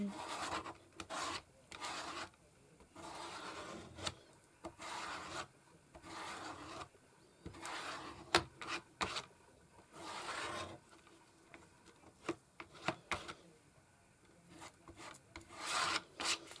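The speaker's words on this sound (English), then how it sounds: "putting it on and scraping it off. I've definitely got too much on here. Just scrape some off." Repeated raspy scraping and rubbing strokes on a wooden spice rack as excess finish is scraped off, near and moderately loud, in irregular bursts with brief pauses between passes.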